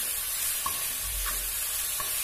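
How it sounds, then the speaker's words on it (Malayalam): Onion and green chilli sauté in oil in a pan, a continuous close hiss of frying with a few light stirring taps and scrapes, no voices. "പാൻ അടുപ്പിൽ വെച്ച് അതിൽ ഓയിൽ ഒഴിച്ചു, ഉള്ളിയും പച്ചമുളകും ഇട്ട് ജസ്റ്റ് ഒന്ന് വഴറ്റുക."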